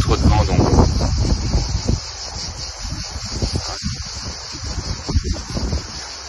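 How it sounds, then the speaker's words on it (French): Strong wind buffets the microphone of a phoned-in voice message, a loud rumbling roar in uneven gusts that masks a person talking beneath it. "mais il y a comme qui dirait un poil trop de vent"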